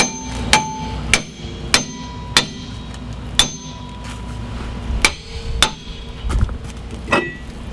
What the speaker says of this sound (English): Go back with hammer.